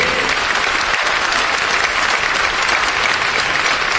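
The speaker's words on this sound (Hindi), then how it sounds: "रिस्पेक्टेड आदर्श हमारे हमारे सुजीत सर, मैं चाहूंगा जब नाम आया है तो तालियां इसलिए होनी चाहिए" An audience claps continuously at an RCM business event, a dense steady wash of applause that holds at the same level throughout.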